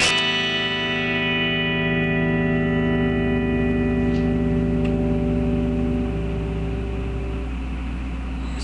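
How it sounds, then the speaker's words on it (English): Fender '52 Telecaster electric guitar with both pickups combined, a struck chord ringing out and slowly decaying over several seconds, a few small string touches along the way, no speech. "And then with both pickups combined,"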